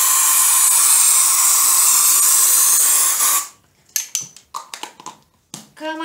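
A spray can is shaken and sprayed onto sisal for a handmade decorative cushion: a long, loud continuous hiss for about three seconds, then short rattling bursts of the can being shaken.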